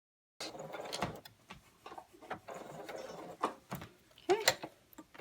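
A sewing machine back stitches a cloth face mask in short, uneven bursts of quiet mechanical clatter and ticking, separated by pauses.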